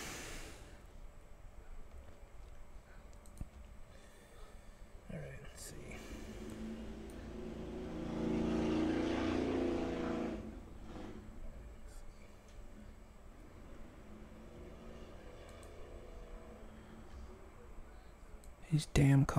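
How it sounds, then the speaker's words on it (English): A car engine rumbles past outside, swelling to a broad roar and fading away, amid quiet clicks and background hum. "These damn cars keep making all this noise with their motors."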